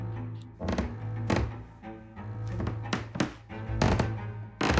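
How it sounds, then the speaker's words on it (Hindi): Heavy, muffled thuds of footsteps overhead, slow and uneven, sounding through a ceiling over a low, ominous sustained drone. "तभी कमरे के ठीक ऊपर किसी के चलने की आवाज आने लगी।"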